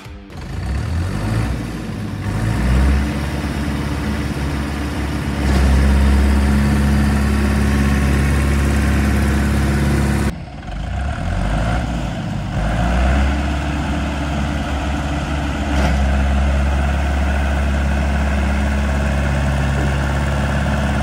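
Heavy tractor engines, a modified Ursus C-4011 and an ARBOS 3055 in a tug of war, roar continuously and loudly, rising and falling in revs with a steady low rumble throughout.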